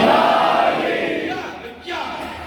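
At a Shia majlis gathering, a crowd bellows the religious slogan Naara-e-Haidari in unison, a loud collective shout that swells and fades, followed by a brief renewed burst.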